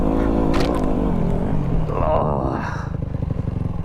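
A Yamaha WR250R dirt bike revs hard close by while overtaking another rider on a single-track enduro trail, its loud, steady engine roar continuing throughout with a brief exclamation over it.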